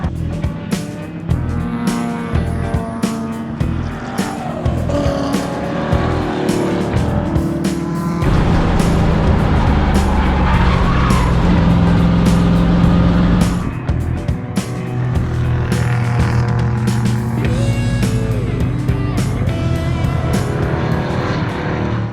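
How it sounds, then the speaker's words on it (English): A race car lapping a race track while burning oil: loud, close engine roar climbing through revs with repeated abrupt gear shifts and brief dips, continuous throughout with no voices. "I'm just like shifting, going fast."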